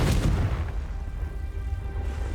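Confringo fire spell bursting in Hogwarts Legacy: a single loud, deep boom at the start that rumbles and decays into a low, sustained roar, with no voices.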